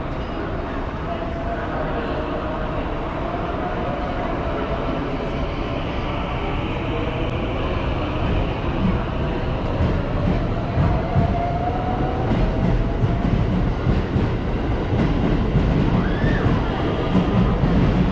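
A JR Kyoto Line train arriving at Osaka Station, steady heavy rumble of rolling wheels and rail noise filling the platform, loud and continuous throughout, with station announcements spoken over it.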